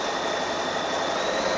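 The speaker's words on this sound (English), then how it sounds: "I'm going to start sewing right from the edge and come along" Steady, continuous mechanical whir of a sewing machine motor stitching quilt binding along the edge at a 1/4 inch seam, held close and fairly loud with no pauses.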